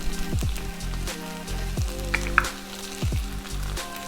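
Cooked meat and olives sizzling in a hot pan, a steady close frying hiss with crackling pops, broken by a few stirring scrapes, no voices.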